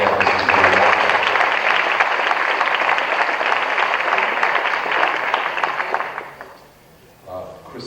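A large audience applauds loudly and steadily at a 1992 Miami book fair event at the Wolfson campus of Miami-Dade Community College, the dense clapping sustained for about six seconds before fading out, with a brief murmur after.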